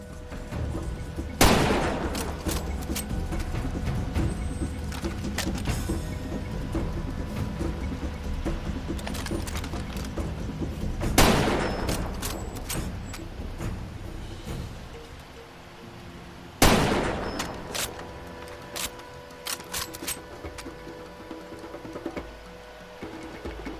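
Gunfire in the S.T.A.L.K.E.R. video game: three loud, sharp shots ring out several seconds apart over a continuous rumbling background.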